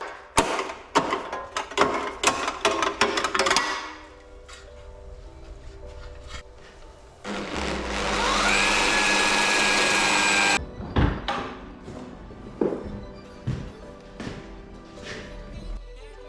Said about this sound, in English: So we're going to be drilling in the exact same place